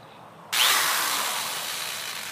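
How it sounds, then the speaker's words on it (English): A power drill fitted with an egg beater starts abruptly and runs at a steady whir while mixing green sand for aluminum casting, loud and close with no talk. "I throw an egg beater on a drill, then just add water."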